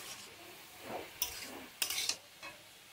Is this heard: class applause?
no